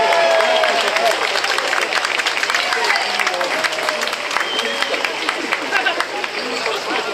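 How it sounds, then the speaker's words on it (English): Sustained applause from a festival audience for the U.S. 7th Fleet Band at an outdoor street event in Jiyugaoka, steady and dense, with scattered crowd chatter mixed in. "Another round of applause, please."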